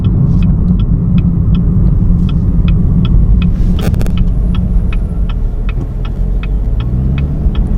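Steady engine and tire rumble from a 2018 Chevrolet Camaro ZL1 driving over a potholed road, loud and continuous with faint regular clicks and a brief rattle partway through, no talking.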